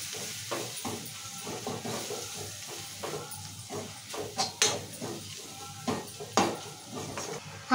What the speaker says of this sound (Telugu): ఇప్పుడు కలుపుకుందాం మంచిగా.